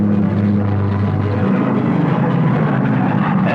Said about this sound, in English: Navy fighters and bombers were wound up and sent off while the Japs were still pounding U.S. defenses